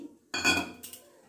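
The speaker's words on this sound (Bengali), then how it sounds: "আমি একটা বড় বাটি নিয়ে নিয়েছি, এবার এর মধ্যে এই অঙ্কুরিত ছোলা আর মটরটা দিয়ে দিচ্ছি।" Sprouted chickpeas and peas tumble into a big bowl with a brief rattling clatter, followed by quieter settling clinks, close by.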